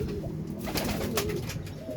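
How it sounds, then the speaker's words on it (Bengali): Racing pigeons of the Koopman bloodline cooing at a loft in Jessore, a steady low murmuring chorus of several birds close by with no talk over it. "কোপম্যান ব্লাড লাইনের পায়রা"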